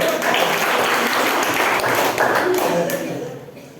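An audience claps in a sustained burst of applause that fades toward the end, with a voice speaking over it at a stage event.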